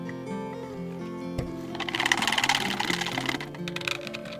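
Coffee soap batter whirred with a stick blender, a buzzing motor rising to a louder churning rattle midway, then settling to a steady hum, close by.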